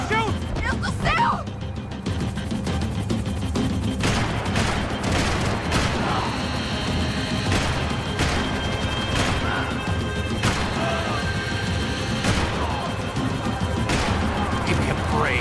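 Gunfire in the action game Max Payne 3, repeated sharp shots and crashing impacts over a steady loud rumble of action, with occasional shouted voices.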